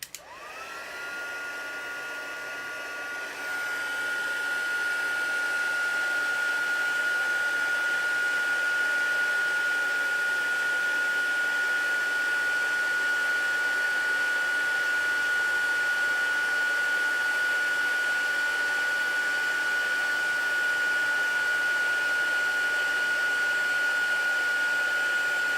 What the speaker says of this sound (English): It's going to get noisy because I'm going to use the heat tool.